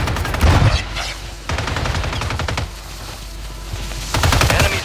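Sustained automatic gunfire in a Call of Duty Warzone solos match, loud rapid bursts coming in waves with short pauses between them, close and dominant.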